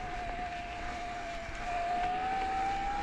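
Shimano EP8 e-bike motor in boost mode on a Santa Cruz Heckler MX Lite 2021 mountain bike, a steady close whine holding a single sustained pitch that rises slightly and grows louder partway through, under wind and rolling noise, with no talk.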